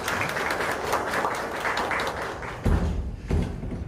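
A seminar audience in Pyeongtaek gives a round of applause, a steady patter of many hands that breaks off partway through into a few heavier thuds and scattered final claps.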